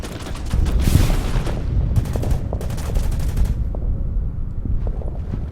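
Rapid machine-gun bursts and heavy thuds as a fighter plane strafes an anti-tank gun and bunker in the Winter War strategy game Order of Battle, loud and close, with fire stopping briefly near the end.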